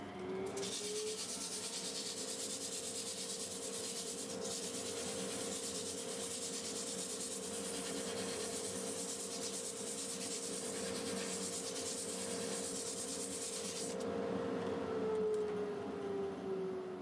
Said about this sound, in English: I'll go ahead and sand the back side, show you some of that